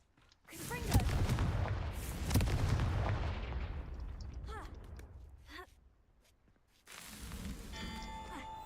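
A Confringo blasting spell in Hogwarts Legacy goes off with a loud booming explosion that rolls and fades over several seconds, followed by a quieter pause and a fresh burst of game noise with faint chiming tones.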